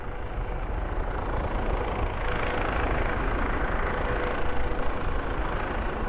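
A helicopter arriving at an offshore wind turbine far out at sea gives a steady, loud rotor and engine roar that keeps going throughout, with no voices.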